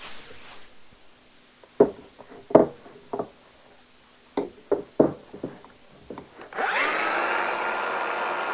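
A power tool cuts through a steel steering rod on a Ford Transit: a string of sharp knocks and short bursts, then a loud, steady whining grind that starts abruptly near the end and carries on to the close.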